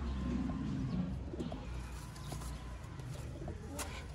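Red-eyed pigeons kept as a breeding pair with their chicks coo softly in a loft, low throaty calls faint behind a steady background hum, with no talking.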